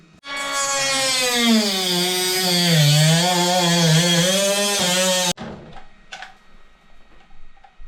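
A power saw cuts plastic sink waste pipe to length during a kitchen sink replacement, giving a loud, steady, high-pitched whine for about five seconds that stops abruptly, followed by faint handling clatter.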